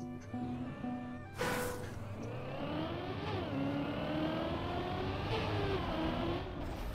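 A rally car engine in the video game Trackmania revs up sharply after a brief idle, then holds a steady, rising roar with shifting pitch.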